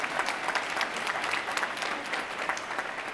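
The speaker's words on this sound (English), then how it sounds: "that's worth applause for sure" Audience applause fills a university graduation ceremony, a dense, steady wash of many hands clapping at even loudness throughout, with no voices standing out.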